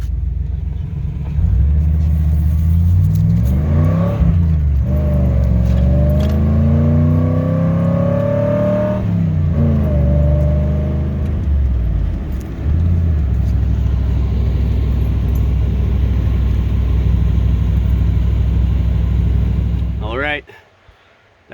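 A Chevy 350 V8 from the 88–95 GMC/Chevy line, fitted with a Holley 670 CFM TBI, rumbles loudly at idle and revs up twice in rising and falling sweeps, then settles and cuts off near the end.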